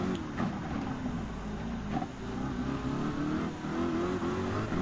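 A 2015 Lamborghini Huracan GT3 racing in Gran Turismo 7, its engine droning loud and steady with a rising harmonic whine, brief dips between gear shifts, up close with no talking.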